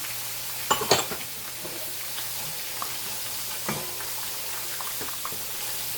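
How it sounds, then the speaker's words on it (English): Ginger garlic paste and spices such as coriander powder and Kashmiri red chilli powder being stirred in a hot pan, a faint continuous sizzle with a couple of louder scraping knocks early and sparse soft clinks after. "Then add the ginger garlic paste. Then keep stirring it."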